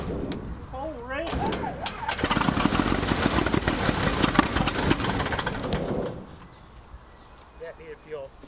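A 1953 Beechcraft D35 V-Tail Bonanza project aircraft engine starts: a few cranking pulses, then the piston engine catches and runs loud and rough for several seconds before dying back to quiet, with people talking before and after.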